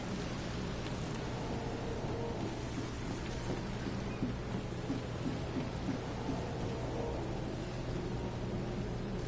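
Rain in the video game The Sinking City falls in a steady, even hiss, with a low rumbling bed beneath it and faint scattered ambient detail, all at a moderate level.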